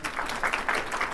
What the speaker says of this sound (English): So that was a kind of a tepid clap